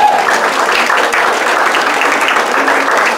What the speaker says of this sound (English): Who's not clapping?